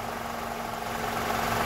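Toyota Camry 2.5 2AR-FE four-cylinder engine idling after a balance shaft replacement, a steady low hum with a faint mechanical rattle and hum-like tone, fairly quiet and even throughout.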